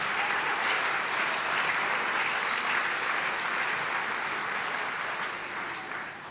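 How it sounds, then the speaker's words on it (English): An audience at a community club event applauds three women with steady, dense clapping from many hands, sustained and even throughout before tapering slightly at the end. "So can I get another round of applause for these three strong women?"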